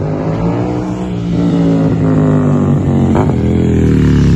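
A BMW 1000 RR motorcycle engine is revved during a sound check on a group Sunday ride, giving a loud, steady, close-up engine drone that rises and falls in pitch with a sharper blip near the end.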